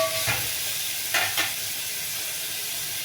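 Tomatoes frying in a pan with softened onions for bottle gourd sambar, a steady broadband sizzle with a few brief spoon scrapes early on, close and moderate, no voices.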